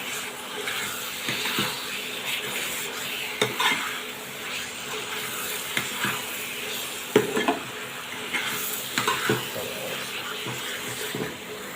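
Taro leaf greens (kochu shaak) cooking in oil in a pan with lemon leaves, a soft sizzle under repeated scraping strokes of a spoon against the pan and occasional metallic clinks, close and steady.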